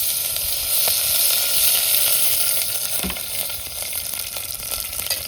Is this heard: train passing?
no